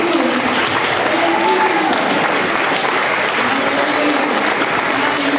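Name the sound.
congregation applauding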